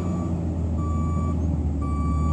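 A Circle T concrete conveyor truck backs up on a building site, its reversing alarm giving steady, evenly spaced beeps over a loud, constant diesel engine rumble.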